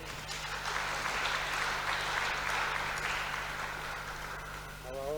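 Applause for a reverend fills a church at a Sunday service, a dense, steady wash of clapping from a large congregation that holds for about five seconds, then thins and fades at the end.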